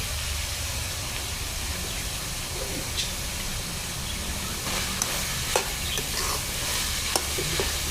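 Yellow curry paste being stir-fried in a pan for a spicy quail stir-fry: a continuous sizzle and hiss with scraping strokes of a spatula, growing busier with sharp clicks toward the end, no talk.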